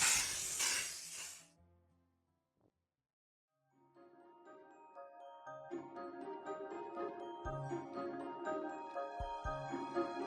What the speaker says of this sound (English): a little bit of spray so it can start smelling a lot better in here too.